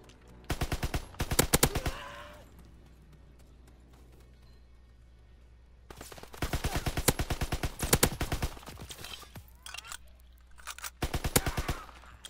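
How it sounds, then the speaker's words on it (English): Grease gun machine pistol firing in a video game, several rapid bursts of sharp, evenly spaced shots, loud and close, with quieter gaps of room noise between bursts. "let's do a machine pistol. A grease gun."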